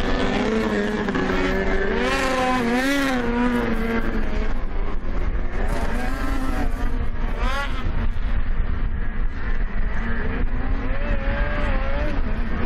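Snowmobile engines rev and whine at a snowmobile cross race, with several overlapping high-pitched motors rising and falling in pitch as machines race by, loud and continuous with crowd and track noise underneath.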